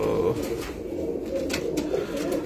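Pigeons coo steadily in a rooftop loft, a dense, continuous low burbling from several birds close by, with faint scattered clicks and flutters.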